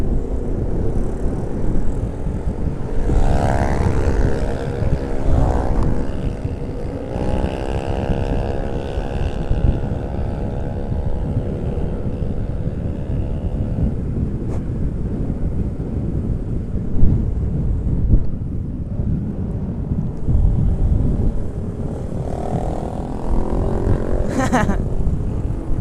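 A motorcycle exhaust drones steadily near the Ampera bridge in Palembang, with engine pitch rising and falling as the bike moves through traffic, while people talk over the wind and road noise.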